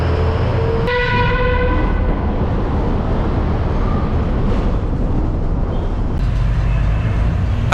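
Loud rumble of a train rolling past close by at Guindy railway station in Chennai, with a brief horn toot near the start and continuous clattering noise throughout.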